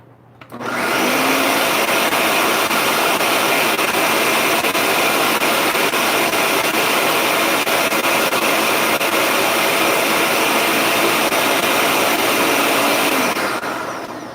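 An electric mixer whirs steadily for about thirteen seconds, blending strawberries and cream jello batter, loud and close with a constant motor drone that starts and stops abruptly.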